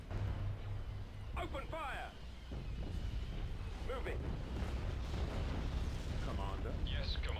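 Warships in a space strategy game open fire with broadside cannons, a steady rumbling barrage with scattered booms and sweeping effects, heard under ongoing talk.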